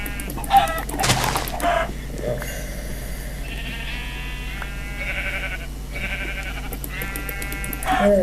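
Sheep bleat and chickens cluck inside a Minecraft game, the animal calls coming in repeated bursts over a steady background hum, with a louder cluster near the start and another at the end.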